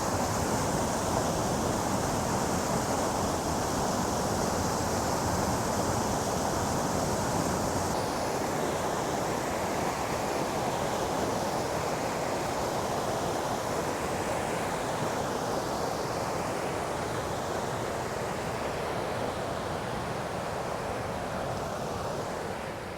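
Lyric Falls on Hunters Creek in Rocky Mountain National Park sends out a steady, dense roar of rushing water, constant and loud throughout with no breaks and no voices.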